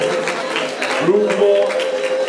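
Cosplay contest audience at a comics convention applauding, a steady wash of clapping under a sustained musical tone, with a voice faintly present.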